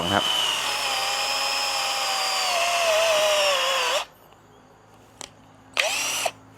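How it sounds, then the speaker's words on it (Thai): A 12 V DCA cordless drill whines at high speed for about four seconds, its pitch sagging under load as it bores into wood, then two short bursts follow. "ในส่วนต่อไปมาดูการเจาะไม้เป็นเรื่องที่เขาถนัดมากนะ"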